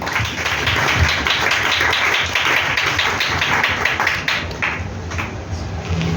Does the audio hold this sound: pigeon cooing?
no